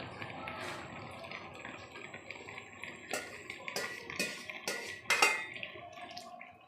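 Water is poured into a pot of nihari, making gurgling splashes and a few sharp clinks against the metal, moderately quiet and close, growing busier toward the end.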